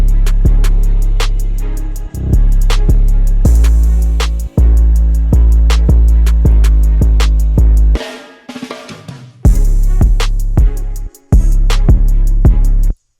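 Electronic drum fill programmed in Ableton, loud punchy kicks and snares under steady hi-hats, breaking into a quick rolling fill with dropouts and a crashing return to the beat.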